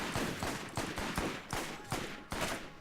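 Gunfire in Borderlands: a steady series of single sharp shots, around seven evenly spaced cracks, fairly loud and close with no voices over them.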